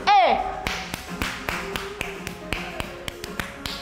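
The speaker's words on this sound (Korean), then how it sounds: "박수." Sharp, crisp hand claps keep a steady beat, roughly two to four per second, during an at-home Zumba dance workout. A brief vocal cue from an instructor sounds at the start, and faint background music runs beneath.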